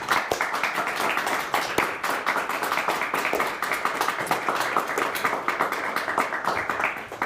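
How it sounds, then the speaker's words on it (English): A studio audience applauds two high school quiz teams, with steady, dense clapping that carries at an even loudness from start to finish. "Nice round of applause for both of our teams today."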